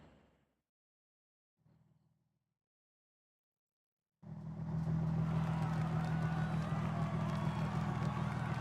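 Nissan GT-R engine in Forza Horizon 6 on a track day, coming in abruptly after near silence as a steady, loud, droning roar that holds at a constant pitch, with no talk over it.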